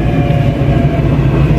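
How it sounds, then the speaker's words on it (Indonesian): A Taipei MRT blue line train runs with a steady, loud rumble and hum from inside the car, unbroken and without voices for under two seconds. "ini sudah mulai naik MRT menuju ke Taipei. Ini naik MRT jalur biru"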